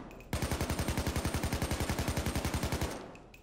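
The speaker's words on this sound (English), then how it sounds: "you shoot them all down and nothing happens, they just come back up" Rapid automatic gunfire from PayDay 2 at a shooting range, a steady burst of about thirty evenly spaced shots over roughly two and a half seconds, loud and close with no talk.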